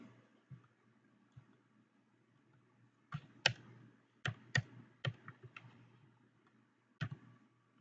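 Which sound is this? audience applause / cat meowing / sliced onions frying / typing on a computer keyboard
typing on a computer keyboard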